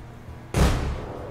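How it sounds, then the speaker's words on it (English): A grenade detonates a propane tank in the tactical shooter Door Kickers 2, giving one sudden loud, deep blast that rolls on with a heavy rumbling tail. "I'm going to get a frag on that propane tank"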